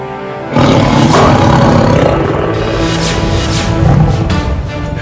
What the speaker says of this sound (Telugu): పులి వచ్చేసింది.